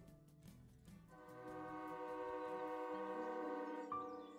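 A train sound effect in a Bengali audio story: rumbling wheels that give way to a long sustained horn blast, fairly loud and steady, with no speech.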